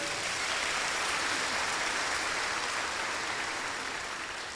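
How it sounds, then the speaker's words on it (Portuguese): Audience clapping inside a parish church, a steady wash of applause from many hands that holds evenly and then tapers slightly, with no speech over it. "Dá uma salva de palmas para ele"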